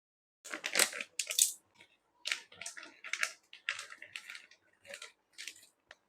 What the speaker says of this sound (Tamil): இப்போ நம்ம வந்து காளான்லாம் க்ளீன் பண்ணிக்கலாம்.